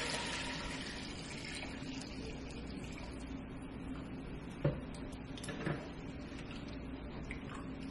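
Broth pours steadily into a cooking pot in a home kitchen, a faint continuous liquid trickle with a couple of soft knocks partway through.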